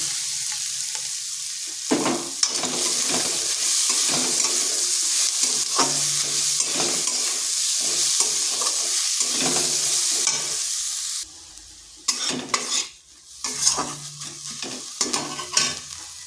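Peas sizzle loudly in a hot pan, a continuous close frying hiss broken by repeated scraping stirs, with a brief quieter pause near the end before the sizzling resumes.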